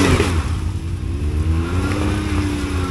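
A 2023 Can-Am Outlander ATV engine revs steadily and close by, tires churning in muddy ruts, with a continuous throaty drone and no talking.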